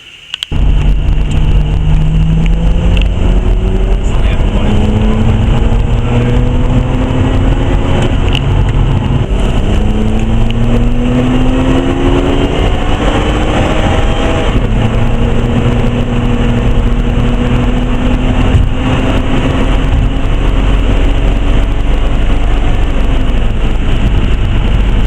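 A Nissan Skyline RB25DET turbo engine in a Stagea, fitted with an RB20 wastegate actuator, runs steadily close to the microphone, its loud drone rising and falling in pitch through several revs.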